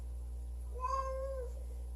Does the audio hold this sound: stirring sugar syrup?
no